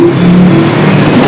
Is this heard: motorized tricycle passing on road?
yes